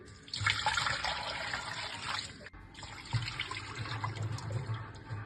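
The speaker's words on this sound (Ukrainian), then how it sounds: "Наливаємо 2 літри води." Two liters of water pour into a cooking pot holding halved pork belly, a loud continuous splashing stream that pauses briefly midway and then resumes.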